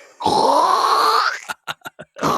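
Snarling growl from a dog-creature in the 1982 horror film The Thing, a sustained harsh rasping vocalisation followed by several short clipped bursts, loud and close with no talk over it.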